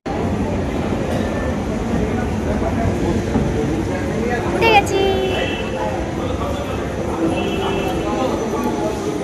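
A metro train pulls into a busy underground station in Kolkata, a loud steady rumble with a squeal of brakes midway and crowd murmur throughout.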